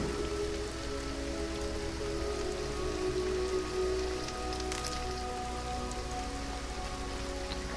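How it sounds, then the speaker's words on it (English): Steady rain falls and patters on surfaces in the video game Horizon Zero Dawn, a constant even hiss with faint tonal game ambience underneath and no talk. "Aloy's just getting rained on."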